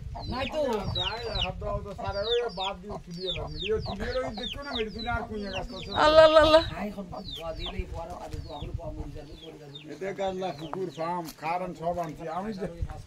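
Chickens cluck and squawk repeatedly near and far in a village while people talk over them throughout.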